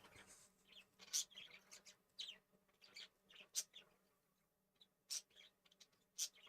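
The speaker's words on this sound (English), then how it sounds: "if you hear the birds, it's mostly my male that talks to her" Small pet birds chirp nearby in short, high, sharp bursts, scattered irregularly over a quiet background.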